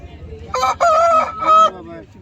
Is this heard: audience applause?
no